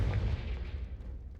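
A Confringo blasting spell cast in Hogwarts Legacy bursts out as a deep, rumbling boom that rolls and fades over a second or so, heard alone without talk.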